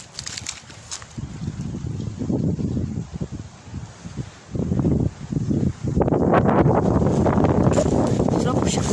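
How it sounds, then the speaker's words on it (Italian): Gusty wind buffets the microphone in low rumbling surges in a vegetable garden, with a person talking throughout. "Purtroppo c'è questo vento che dà molto fastidio."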